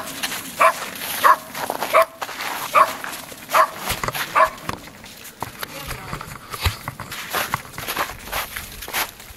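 A small wet puppy gives a series of short sharp barks and yips with pattering footsteps on a slippery floor, close by and interspersed with people talking.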